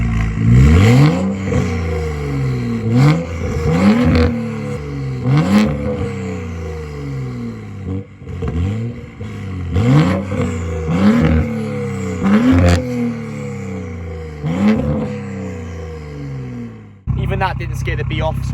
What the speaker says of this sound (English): we're going to start off with pure N55 exhaust tone